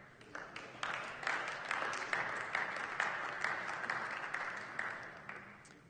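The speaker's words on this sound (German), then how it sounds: "Applaus" Members of a German parliament applaud after a speech, a moderately distant, steady burst of many hands clapping that holds evenly throughout.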